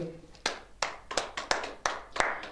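A church congregation clapping together in praise, a run of sharp, fairly loud handclaps at an uneven rhythm, with a brief murmur of voices at the very start.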